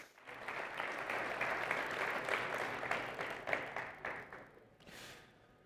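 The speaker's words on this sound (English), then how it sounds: "So please welcome, give a big applause to Andrea Montieri" Audience applause fills the room, a steady wash of many hands clapping that swells, holds, then tapers off toward the end.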